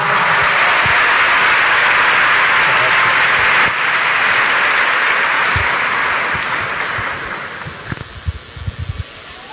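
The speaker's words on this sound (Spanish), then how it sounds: "Fuerte el aplauso." A large audience at a national catechists' gathering in Durango gives strong, sustained applause that fills the hall and then thins to scattered claps near the end.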